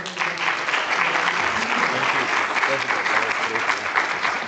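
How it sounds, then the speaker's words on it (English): An event audience gives a round of applause for a presenter on stage, producing thick, continuous clapping at steady volume with some voices mixed faintly underneath. "Please, a round of applause"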